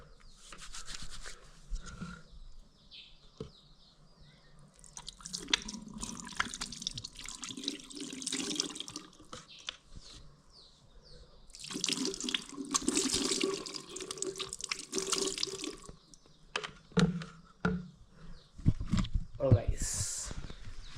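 Water runs from a tap in bursts during handwashing with detergent, splashing and trickling on and off, while people talk throughout.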